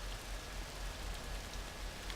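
Steady rain falls throughout a Tony Hawk's Underground game scene in a neighborhood, a dense even hiss of drops on surfaces that holds constant with no talk over it.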